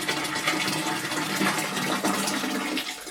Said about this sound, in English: And then I'm just going to pour the boiled water into the loo.